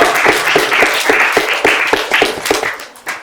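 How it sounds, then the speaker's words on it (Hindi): Game show studio audience breaks into applause for a correct answer, a dense, close burst of clapping with some sharper individual claps standing out, fading slightly toward the end. "आपकी ऑडियंस ने अभी से तालियां बजा के बताया कि बिल्कुल सही"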